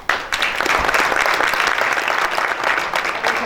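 An audience at an essay competition launch applauds its winner, a dense burst of many hands clapping that holds steady for several seconds.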